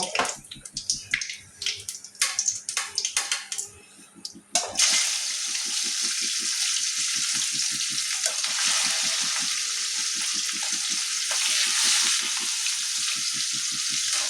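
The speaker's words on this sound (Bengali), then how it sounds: "বাকি মাছগুলো এইভাবেই সব ভেজে নেব।" Hilsa fish pieces fry in a pan of oil while a mustard-and-eggplant hilsa curry is prepared. A few seconds of clattering and spitting give way to a loud, continuous, close sizzle that holds steady to the end.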